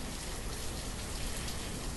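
Steady rain falls in the village-building game Banished, a dense, even hiss of rainfall filling the whole stretch at constant level without pauses or speech.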